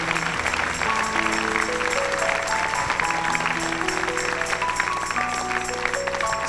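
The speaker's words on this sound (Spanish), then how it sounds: "Dele palmas al Señor, aleluya" Church congregation applauding during a service, a steady wash of many hands clapping together, with organ or keyboard chords sustained over it.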